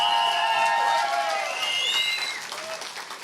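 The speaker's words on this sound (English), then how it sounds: "I think you need to give yourself a round of applause," A crowd at an outdoor rally after a march for Welsh independence in Swansea applauds and cheers, a steady wash of clapping with whoops and shouts that slowly fades.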